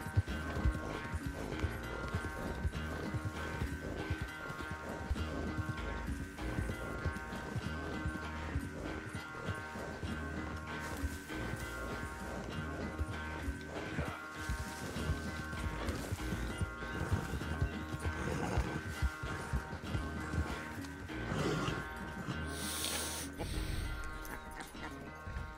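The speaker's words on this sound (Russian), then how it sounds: "Лошадка у меня не такая быстрая." Horse hooves clip-clopping in the open-world western video game Red Dead Redemption 2, a continuous rhythmic trot or gallop under ambient game music and environment sounds, with occasional horse snorts.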